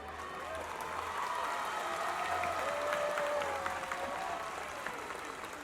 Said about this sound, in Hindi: अगर चिल्ला के बोलेंगे, तालियों से बोलेंगे अजय सर के बारे में?